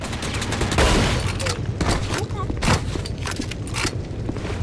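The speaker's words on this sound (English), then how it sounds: "Use the shotgun some more" Shotgun blasts in the TimeShift video game, several loud booming shots fired in quick succession with sharp attacks, heard over game ambience and a talking voice.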